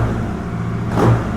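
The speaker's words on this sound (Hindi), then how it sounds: "तो भाई ये आवाज़ है बाइक की विद द डीबी किलर।" A motorcycle engine idling with a dB killer baffle fitted in its exhaust, a steady low rumble that swells into a brief rev near the end, close and alone.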